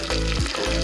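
Six or seven dried red chillies hit hot oil that already holds cumin seeds while a spinach gravy is tempered, giving a brief, close, steady sizzle with no talking.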